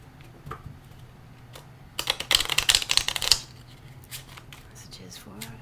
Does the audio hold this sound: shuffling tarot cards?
yes